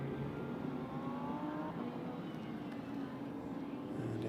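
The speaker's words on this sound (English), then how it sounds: "it is a stonking engine in that thing, the twin-turbo V6 that pumps out 690 horsepower" A twin-turbo V6 race car of about 690 horsepower drones steadily in a GT sprint qualifying session at Paul Ricard in a racing video game, heard faint and at a distance.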